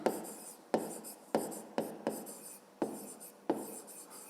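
A pen scratches across a school exercise book during a fifth-grade maths exercise, with about seven short writing strokes, each starting sharply and fading, close and quiet, with no voices.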